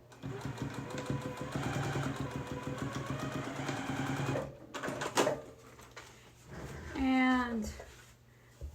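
Sewing machine stitching fabric with back stitching, a rapid steady mechanical whir for several seconds that stops, followed by clicks and a short burst of stitching, close and moderately loud.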